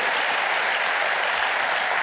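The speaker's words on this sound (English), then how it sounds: "So can we get another round of applause" An audience at PAX Australia applauds, a dense steady roll of clapping filling the room, loud and continuous without voices standing out.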